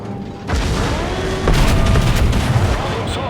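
Heavy battleship main guns boom and rumble in the World of Warships naval game, a US tier 7 Colorado trading fire with a New Mexico. Loud, dense gunfire continues throughout with a sharp new blast midway.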